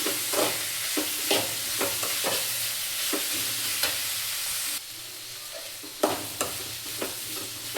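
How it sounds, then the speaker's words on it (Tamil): Ridge gourd peel sautés in a pan for chutney, a continuous close sizzle broken by repeated scraping strokes of a spatula, dropping slightly quieter partway before louder stirs return. "இந்த பீர்க்கங்காய் தோல்லாம் நல்லா வதங்குறதுக்கு ஒரு 4 மினிட்ஸ் தான் ஆகும்"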